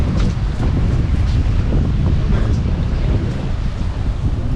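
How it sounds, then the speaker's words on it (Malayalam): Cold night wind blows through Yerevan, Armenia, buffeting the microphone in a steady, loud, low rumble with soft gusty swells and no voices. "തണുത്ത കാറ്റുണ്ട്."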